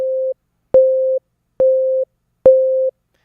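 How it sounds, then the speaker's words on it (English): A pure mid-pitched sine wave tone, processed by a compressor in FL Studio 20, plays in four short beeps separated by silence, each starting with a sharp click and holding steady before cutting off. "after the sine wave has finished playing, the compression will still carry on for the set amount of time"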